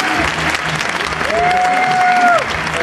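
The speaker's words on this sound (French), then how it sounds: "On l'applaudit s'il vous plaît." Audience applause for a team called onstage at a French event, a steady dense wash of clapping lasting throughout, with a brief whistle-like tone in the middle.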